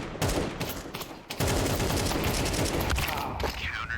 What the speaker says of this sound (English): I did not realize somebody was shooting at you from CT.